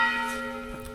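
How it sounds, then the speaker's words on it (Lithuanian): Church bells ringing at ten in the morning in a Spanish town, a steady sustained chime with ringing overtones that fades slightly across the moment, with no voices. "Net varpai pradėjo daužyti. 10 ryto."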